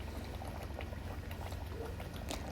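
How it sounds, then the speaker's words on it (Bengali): Katla fish curry with tomato boils in a pan, giving a faint, steady bubbling hiss with soft irregular pops throughout. "এবার ভালোভাবে ফুটতে দেব।"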